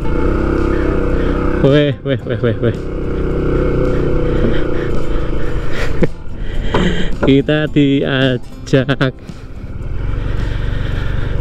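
A motorcycle rides along a road on the way to a seaside shrine at Demak, its steady engine drone running throughout while people chat and call out over it.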